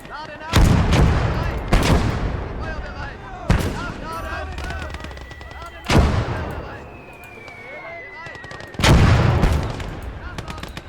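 Loud, booming machine gun fire in a video game: about six separate heavy blasts a second or two apart, each ringing out and decaying, with busy game effects between them.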